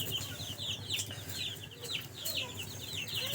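Young Kuroiler chicks peep continuously in a brooder, a busy chorus of high, overlapping chirps close by with no talking.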